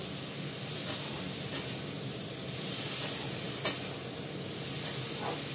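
Vegetable curry fries in a pan with a continuous dense sizzle, close and steady, with a few brief louder spits and stirring scrapes breaking through.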